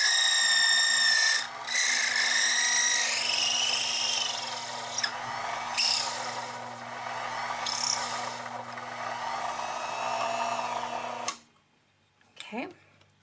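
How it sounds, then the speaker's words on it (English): A drill press bores a tube seat, its motor whine and cutting rasp running steadily for several seconds at close range before stopping abruptly near the end. "I'm going to go ahead and turn on my drill press, and we're going to just come down and begin to drill."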